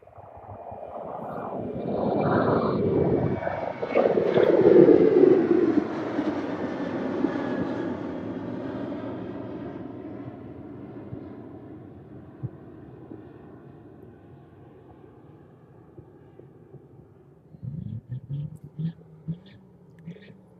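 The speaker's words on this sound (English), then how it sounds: "And the Ryanair just about to depart." Ryanair airliner at East Midlands Airport beginning its departure on a wet runway, a loud broad engine roar that swells early then slowly fades over twenty seconds, with brief clattering near the end.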